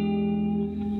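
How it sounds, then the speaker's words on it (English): A sustained, shimmering guitar chord rings out, drenched in heavy reverb with a smooth, lingering wash. "It's a very shimmering, heavily reverb sound,"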